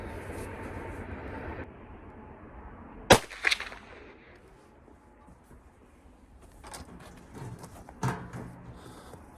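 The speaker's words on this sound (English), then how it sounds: "I think I'm going to shoot one more" A single sharp gunshot from a Winchester Model 94 Trapper lever-action rifle in .44 Magnum fired during an outdoor accuracy test, cracking loud and brief amid background noise, with later clatter and thumps.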